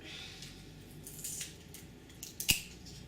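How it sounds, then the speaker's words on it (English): Scissors cut and trim a sheet of plastic visqueen: soft sliding snips build to one sharp, close snap near the end, over a quiet room background with no talk. "Trim it down a little bit, cut a little bit big."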